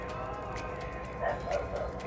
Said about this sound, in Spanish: Si escucháis un perro ladrando, hay un perro en la calle ladrando.